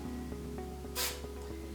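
A single short hiss of hairspray from an aerosol can bursts out briefly while a Victorian up-do is styled on long hair, set against a quiet room.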